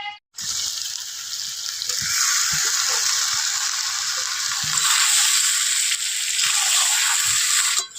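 Marinated chicken hits a pan of fried onions and sizzles loudly, a bright, hissing frying noise that swells and carries on steadily with a few soft stirring knocks.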